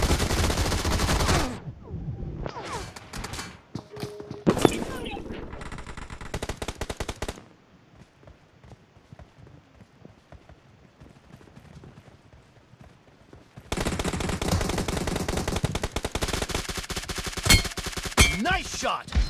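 Rapid automatic gunfire in PUBG Mobile, loud and dense in bursts at the start and again for a long sustained stretch at the end, with a quieter lull of faint game ambience in between.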